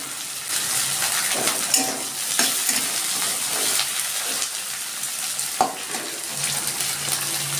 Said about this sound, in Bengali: এবার দিয়ে দিচ্ছি আমি পেঁয়াজ কুচি এবার দিচ্ছি একটু আদা কুচি